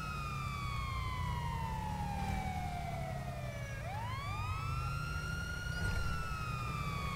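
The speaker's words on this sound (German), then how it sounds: "So, wir machen jetzt auch mal die Sirene an" Police car siren in Grand Theft Auto 5 with the LSPDFR police mod, a wailing tone that sweeps down and then switches to a rising yelp, loud and continuous over steady road and engine noise on a highway.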